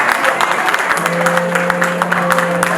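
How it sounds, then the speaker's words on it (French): An audience applauds the Bangoulap monarchs at a Paris ceremony, with steady, dense clapping running continuously across the whole moment. A sustained tone hums faintly underneath. "Est-ce qu'on peut applaudir très fort pour les monarques, s'il vous plaît?"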